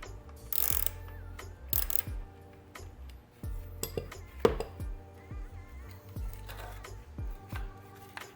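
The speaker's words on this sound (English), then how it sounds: "Remove the nut that secures pulley." Removing the nut that secures the pulley on a Ryobi AP1305 12.5-inch planer: close, irregular metallic clicks, ratcheting and clinks from hand tools with short pauses between bursts.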